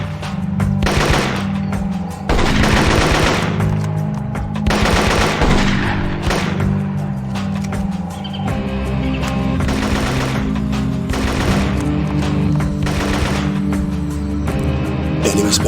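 Sustained bursts of automatic gunfire from the jungle shooter game Marine Sharpshooter 2: Jungle Warfare, loud and close, coming in repeated volleys over a steady background of game music and ambience.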